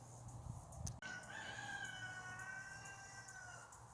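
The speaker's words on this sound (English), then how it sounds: "I swear that rooster knows when I hit record." A rooster crows once in a long drawn-out call, faint and somewhat distant over low background noise, preceded by a couple of soft knocks, with no talking.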